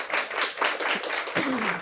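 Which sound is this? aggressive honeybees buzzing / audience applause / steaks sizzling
audience applause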